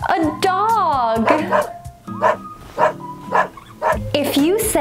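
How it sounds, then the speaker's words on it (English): A dog barks and yips in a short excited burst of several close, loud barks with whimpering tones, mixed with a light musical background. "a dog."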